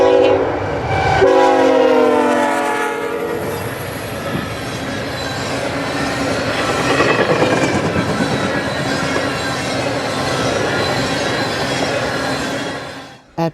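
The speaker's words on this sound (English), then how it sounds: "the train is doing every bit of that 60-mile-an-hour Lake Erie track speed" A freight train at 60-mile-an-hour track speed on Lake Erie track in blizzard-like snowfall sounds a loud horn blast and then roars past close by with rumbling, squealing wheels that fade at the end.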